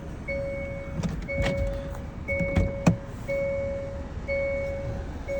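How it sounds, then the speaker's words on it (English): An all-wheel-drive car on an icy road after an ice storm in Mississippi, with cleated tires on all four wheels, gives repeated clicking and clacking thumps under a steady electronic chime beeping in regular pulses inside the cabin. "You hear the cleats out there, click clack, click clack, click clack."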